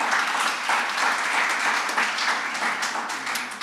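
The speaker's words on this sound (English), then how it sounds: "Can we have a huge round of applause for all these sponsors?" An audience at a medical society summit applauds sponsors with dense, sustained clapping that holds steady and tapers slightly toward the end.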